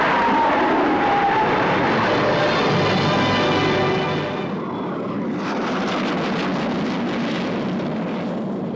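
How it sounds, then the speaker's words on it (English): RAF jet aircraft flying a formation aerobatics display at Farnborough, a loud roaring rush of jet engines that swells and then fades into a steadier distant rumble. "Superb flying by the Royal Air Force, bursting like a bomb over Farnborough."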